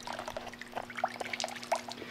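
Water dropped from a rag onto hot engine exhaust pipes while diagnosing a dead cylinder, giving faint, scattered sizzles and drips over a steady low engine hum.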